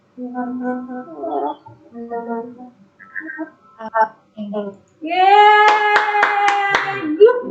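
Hands clap in a run of sharp, quick beats during an online Sunday school service, heard under a sustained voice after a stretch of talking.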